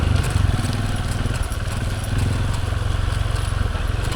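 A motorcycle engine runs steadily and loud, close by, with a rapid pulsing throb and rough, gritty noise throughout, carrying a rider who hauls a load of wood.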